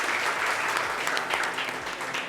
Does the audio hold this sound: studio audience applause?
yes